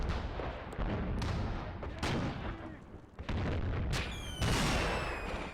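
Gunfire in the Graviteam Fateful Strike World War II tactical game: repeated sharp shots and heavier booms at irregular intervals, some with a ringing whine after them, over a rumbling battlefield background.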